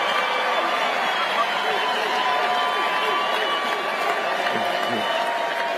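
A crowd at a political talk event cheers and applauds in a steady, dense wash of clapping and voices that holds throughout.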